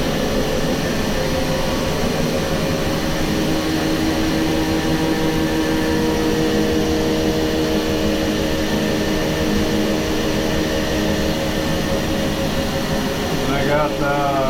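Grain dryer running steadily with holding bin being fed from another bin, a loud continuous fan-like roar and mechanical drone throughout, close and unbroken, with a brief whine near the end.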